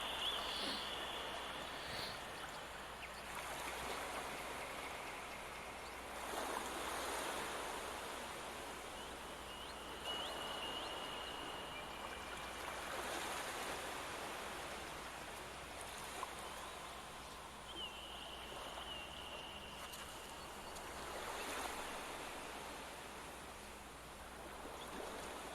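Gentle flowing water, like a stream or soft surf, plays out a song's peaceful outro, a steady, quiet wash with slow swells and faint tonal traces, no voices.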